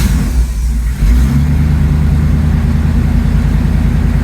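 A KITT replica car engine, cold, turns over after throttle pumps and settles into a loud, steady low rumbling idle close to the microphone.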